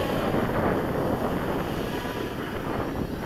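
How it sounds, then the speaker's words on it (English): Strong wind buffets the microphone in a continuous, loud roaring rush with no other sounds standing out. "But yeah, it's windy."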